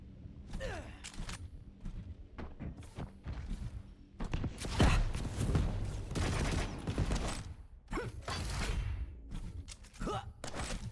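Rocket launcher blasts and explosions from the Quake Champions arena shooter come in irregular bursts of heavy thumps and booms, with rapid weapon fire and movement sounds and a commentator talking over the action.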